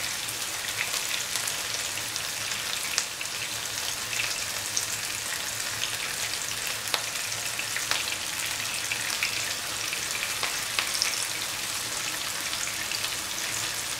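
Mutton meatballs fry in hot oil in a pan, a steady, dense sizzle with scattered crackles and pops running the whole time, close and even, with no talk over it.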